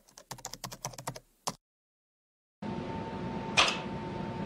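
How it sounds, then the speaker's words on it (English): Controllers for the 1958 Tennis for Two game click in a rapid run of sharp mechanical snaps. Silence follows, then a steady noisy hum with one more click, and no one speaks. "just the loud clicking of controllers"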